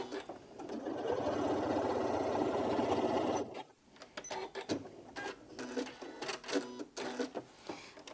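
Janome Memory Craft 9480QCP sewing machine stitching steadily through several thick fabric layers, a continuous close whirring hum for about three seconds, then stopping into quieter handling noises.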